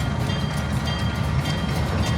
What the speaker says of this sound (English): Locomotive's coming this way.